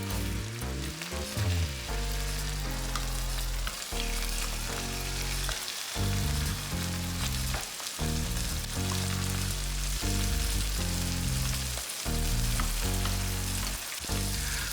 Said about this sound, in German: In einer Pfanne erhitze ich etwas Olivenöl und gebe die Putenstücke mit der Seite der Schinkenscheibe zuerst